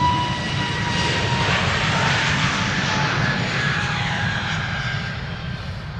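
A Suriname Airways Airbus A340 jet roars loudly and continuously at Amsterdam Schiphol Airport, its engine noise holding steady close by before easing slightly toward the end.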